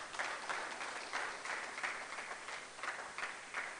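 Steady applause from a studio audience at a national science and maths quiz contest for competing senior high schools, a dense even wash of clapping that carries throughout without talk.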